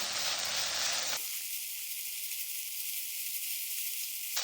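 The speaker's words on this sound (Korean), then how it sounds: "너무 센 불에서 하게 되면 얘네들이 타버려서 중강불에서 지금 볶아지고 있어요." Aged kimchi stir-frying in a pan over medium-high heat, a steady close sizzle with a bright hissing burst at the start and end and a softer, even fry in between, no talk.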